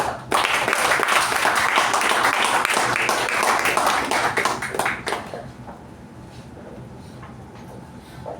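Club meeting audience giving a round of applause to welcome an incoming Toastmasters president, loud dense clapping for about five seconds that then fades out to quieter room noise.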